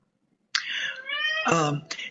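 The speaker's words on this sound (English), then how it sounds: "And you may be able to hear my cat, who's also meowing loudly" A cat meows loudly and plaintively, a long drawn-out cry followed by a shorter second call, close by with no other sound.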